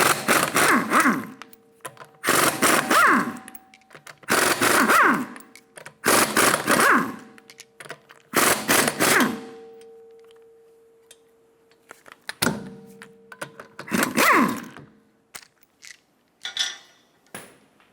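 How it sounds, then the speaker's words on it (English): Lug nuts come off the rear wheel of a 2013-2017 Honda Accord with a 19mm socket: five loud, harsh bursts of roughly a second each, spaced about two seconds apart, followed by scattered quieter clicks and taps. "Using a 19mm socket, remove the lug nuts."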